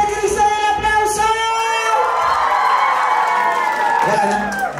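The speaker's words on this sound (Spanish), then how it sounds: "¡Para Super Cristian, el aplauso!" A party crowd at a children's birthday celebration cheers and claps loudly, a steady burst of shouting and applause that fills the space, with voices rising over it.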